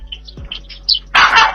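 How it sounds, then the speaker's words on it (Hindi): A small dog yaps in a few short, sharp barks at a larger dog shut inside a cage, the sounds quick and close, ending in a louder, harsher burst of noise. "ये डॉगी अंदर केज में बंद बड़े कुत्ते पर अपना रौब झाड़ रहा है"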